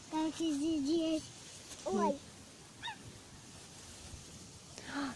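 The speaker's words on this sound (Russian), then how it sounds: "Там уточки." Ducks on a river calling, a few wavering quacks and honks at moderate distance in short bursts separated by quiet outdoor ambience.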